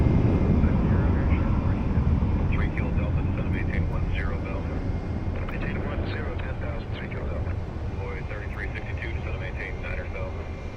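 A plane rolls down the runway at Phoenix Sky Harbor airport, using the full length before it lifts off. A broad, steady engine roar holds throughout and eases slightly toward the end, with faint chatter in the background.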